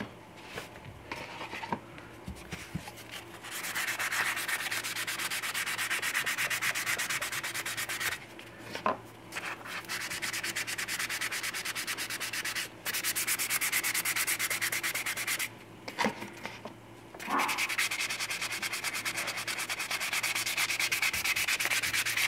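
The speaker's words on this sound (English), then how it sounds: "I did sand the vinyl a little bit with one of these super fine sanding sponges." A super fine sanding sponge rubs over a 1/6 scale vinyl figure kit piece in a long, close, continuous scratchy hiss, broken by a few brief pauses between strokes.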